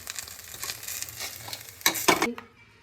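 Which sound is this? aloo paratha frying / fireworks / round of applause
aloo paratha frying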